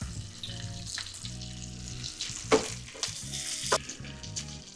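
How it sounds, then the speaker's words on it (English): Bacon fries crispy in a pan, its grease sizzling and popping steadily with a couple of louder crackles; close and fairly quiet, no voices. "I like my bacon crispy, man. You don't want no rubber bacon. Cook this bacon to your preference."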